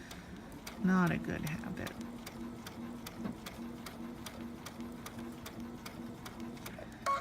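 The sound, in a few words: pins falling on a sewing machine bed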